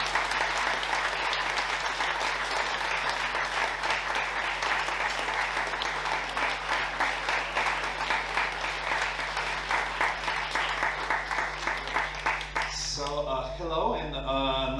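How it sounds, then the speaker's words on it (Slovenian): An audience at a Slovenian festival celebration gives loud, sustained applause, dense rapid clapping that carries on steadily for about thirteen seconds before cutting off as a voice begins speaking. "In kar prosim, dajmo en velik aplavz za gospo Anjo Portin."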